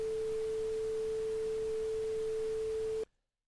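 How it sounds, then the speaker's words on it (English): A steady synthesized sine tone runs alongside a broad wash of generated pink noise, both loud and constant for about three seconds before cutting off abruptly into silence. "now you'll hear sine in the left, pink noise in the right."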